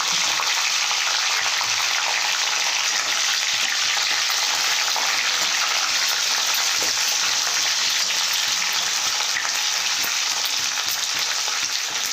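Bajji chillies and a sliced onion fry in hot oil in a pan, giving a steady, close, continuous sizzle and crackle with no talking.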